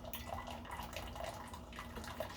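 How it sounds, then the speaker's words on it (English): A Keurig coffee machine running a descaling brew cycle gives off a steady watery trickle and gurgle with faint drips, quiet and continuous, with no one talking. "I'll pop you up in a minute as soon as this brew cycle's done."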